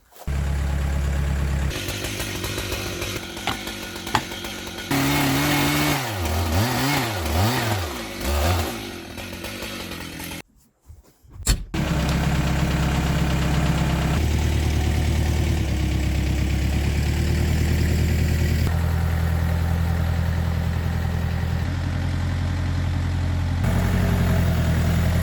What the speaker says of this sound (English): we're going to chainsaw mill it up and try some new things with the saw